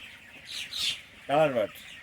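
A short burst of chicken calls on a poultry farm rises briefly over a quiet background after some faint high chirping.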